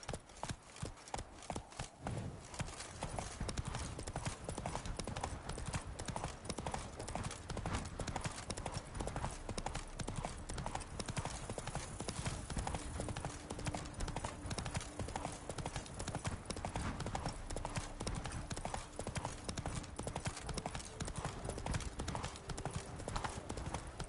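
Roach the horse galloping in The Witcher 3 on PS5, rapid, steady hoofbeats pounding close and loud for the whole stretch with no pause.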